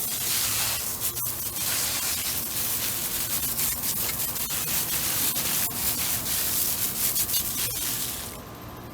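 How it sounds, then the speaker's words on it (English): Water sprayed from a hose rinses down a freshly painted area, a steady close hiss and splash running without pause for about eight seconds before easing off at the end. "I'll rinse it down one more time."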